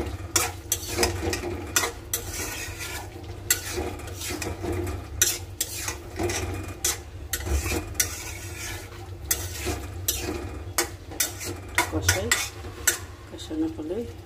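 Spiced vegetables are sautéed in a pan, with a metal spatula scraping and clanking against it in brisk, repeated strokes over a low background sizzle, close and lively throughout.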